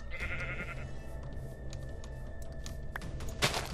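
Sheep bleat in a Minecraft-style video game, a couple of short, moderately faint bleats over a quiet ambient background, with brief clicks and a sharper burst near the end.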